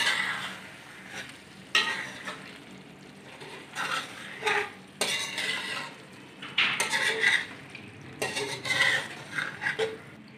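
A spoon stirs yogurt into chicken karahi in a pan, giving bursts of scraping and clinking against the metal with short pauses between strokes, close and moderately loud, with no talking.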